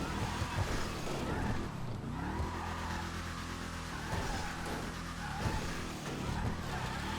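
The Hellfire muscle car in GTA Online rumbles with a steady, growling engine drone that shifts in pitch as it revs, close and continuous, with someone talking faintly over it.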